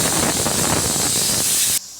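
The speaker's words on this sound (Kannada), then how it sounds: "ಈಗ ಇದನ್ನು 1 ವಿಸಿಲ್ ಬರೋವರೆಗೂ ಬೇಯಿಸ್ಕೋಬೇಕು." Pressure cooker whistling while vegetable sambar cooks on a gas stove, a loud continuous steam hiss that cuts off abruptly near the end and leaves quieter background noise.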